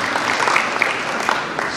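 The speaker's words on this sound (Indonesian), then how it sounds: "Tepuk tangan bagi kita semua." An audience at a motivational talk breaks into brief, steady clapping, a dense patter of hands that holds evenly for under two seconds, with no voice over it.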